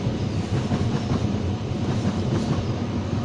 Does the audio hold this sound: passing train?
yes